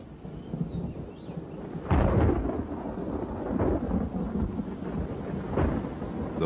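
A thunderstorm over wild country sends a heavy crack and long rumble of thunder, followed by further rolling rumbles under steady rain, loud and close.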